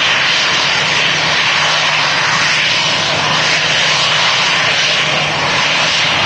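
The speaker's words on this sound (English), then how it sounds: "Is that Emirates going to cross the runway, or is it not?" An Emirates airliner taxis across the runway at Manchester Airport, its engines giving a loud, steady, close roar with no break throughout.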